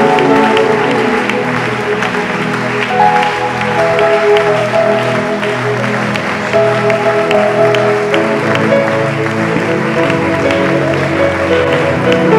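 A church congregation applauds and acclaims Jesus in a steady, sustained wave of clapping and crowd noise with some voices mixed in, filling the room without pause.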